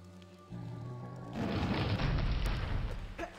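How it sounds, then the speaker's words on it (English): A pillar explodes in Sphinx and the Cursed Mummy: a low rumbling game backdrop gives way to a loud, sustained boom and crumbling roar lasting nearly two seconds, with no talking. "Let's cause one more kaboom."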